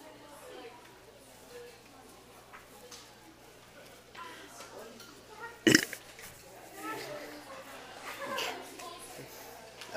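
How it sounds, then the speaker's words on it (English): One loud burp from a child at school cuts in sharply mid-way, brief and close, against background chatter from children talking nearby. "I don't know how long it's gonna take to kick this belch in."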